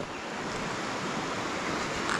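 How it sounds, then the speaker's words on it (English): A steady, loud rush of river water surging around a bend and hitting a wall, broadband and continuous, with no talking. "the powerful water going around the bend here"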